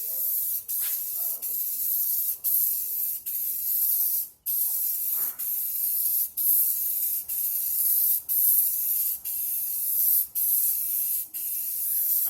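Spray paint hissing out in a thin coat over a stencil on a Robotron arcade cabinet, a long steady close hiss broken by several short pauses between passes.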